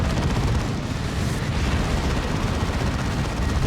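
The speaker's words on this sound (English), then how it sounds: "Just a barrage of sticks and bombs." Stick bombs go off in a dense barrage in the video game Warhammer 40,000: Dawn of War 2, a continuous roar of overlapping blasts and gunfire, loud and unbroken throughout with no voices.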